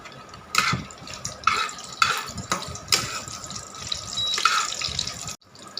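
Bay leaf, garam masala and dried chillies crackle and sizzle in hot oil in a kadai, a steady frying hiss with several sharper bursts of spitting, close and moderately loud, no talking.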